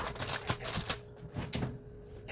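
Aluminium foil being handled for an oven while cooking marinated chicken with vegetables, crinkling and rustling in bursts that fade into lighter crackles, close and fairly loud.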